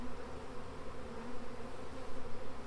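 Honey bees swarm around a ten-frame box trap hung in a tree, giving a dense, continuous buzzing drone that stays even and fairly faint throughout, with no voices.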